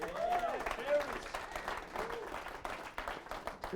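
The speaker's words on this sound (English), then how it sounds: "Give him a round of applause." Audience applause for the Pastor of Prosperity at a real estate training event, steady clapping filling the room with voices audible over it throughout.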